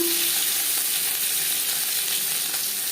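Peeled, boiled potatoes for a chicken curry fry in hot oil with a loud, steady, close sizzle that runs unbroken throughout, with no voices.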